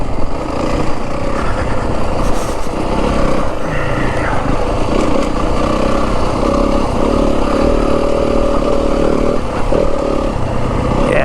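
A 2025 Yamaha WR250F dirt bike rides a rocky desert trail in the Santa Rita Mountains of southern Arizona, its engine droning and revving steadily close by throughout, with no speech.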